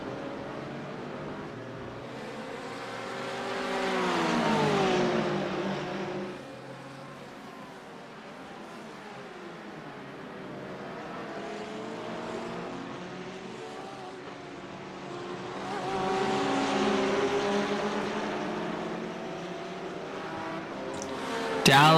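McLaren and Porsche race cars at Imola in an iRacing multiclass race, with engine notes rising and falling as they pass and swelling twice into louder drones over a steady background.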